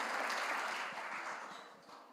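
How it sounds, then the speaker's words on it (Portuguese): A burst of applause from a church congregation during a worship service, dense clapping that gradually fades toward the end. "Você pode aplaudir Jesus pela vida do pastor Romildo."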